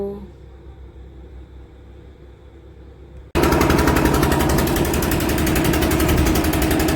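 A steamer boat's engine starts up abruptly partway through, after a quieter stretch, then runs loud and close with a steady rumbling throb on a trip to Bakkhali.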